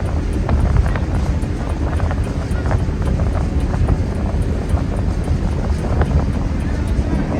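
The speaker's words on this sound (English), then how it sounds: "The wind's strong going this way right now" Strong wind at a marina buffets the microphone in a constant low rumble and roar, with faint rhythmic ticking and clanking from boats riding underneath.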